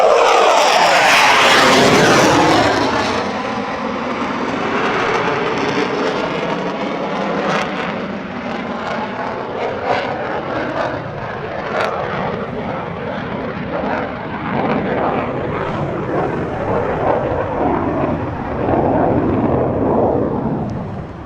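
A military aircraft roars loud and close overhead at RAF Lakenheath, its engine noise swelling as it passes, then rumbling on steadily and fading only slowly over the following seconds.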